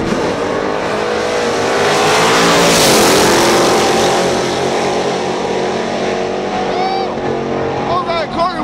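Drag race cars roar down the strip at Fayetteville in a sand trap grudge race, a loud sustained engine blast that swells and fades, with an announcer talking excitedly over it.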